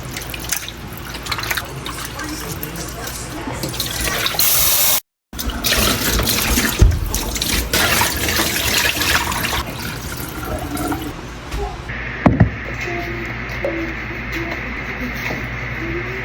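Tap water running steadily into a sink while cow foot and cow skin are washed, with splashing and dripping, a brief cutoff near the start and a clunk later on.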